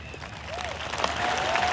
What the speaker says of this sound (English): No, don't clap your hands